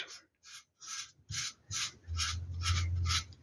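A damp sponge wipes patina off a ceramic wall totem in a series of close, soft rubbing strokes, short swipes at first, then longer, steadier ones.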